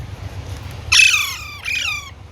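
Two harsh, shrill squawks from Alexandrine parakeet chicks eager for food, close by, the first longer and louder, the second shorter, over a low background hum.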